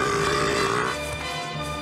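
A long, loud cartoon burp from Bubble Bass in a SpongeBob-style scene, a rumbling, buzzy belch that rolls on for nearly two seconds before trailing into a lower, softer tail.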